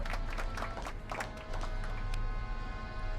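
A crowd in Back to the Future: The Game claps and cheers in a short burst of applause, dense and lively, with individual claps standing out at first before settling into a steady roar.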